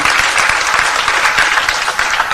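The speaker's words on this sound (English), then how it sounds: "So if we can just give him a round of applause." An audience at a fintech conference afternoon session gives a congressman a round of applause: dense, steady clapping from many hands that fills the room loudly and continuously, with no voices over it.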